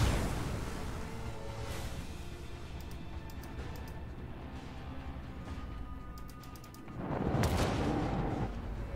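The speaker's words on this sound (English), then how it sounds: "Another knock on the macro cannon." Deep, distant booms of macro cannon fire in the video game Warhammer 40,000: Rogue Trader roll out over a low rumble, with a louder blast near the end, interspersed with sharp metallic clicks.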